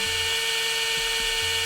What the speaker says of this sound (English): Our drill sound, it sounds like this.